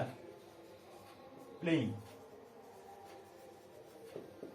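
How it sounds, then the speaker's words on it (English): A marker or chalk scrapes briefly on a classroom board during an English grammar lesson, a single short stroke of writing beside a teacher's quiet speech. "So we will write here"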